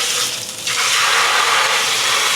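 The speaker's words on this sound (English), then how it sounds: "listen to that sear" Salmon fillet searing in a little olive oil in a hot skillet, a loud steady sizzle that swells sharply just after the fish hits the pan and holds without a break.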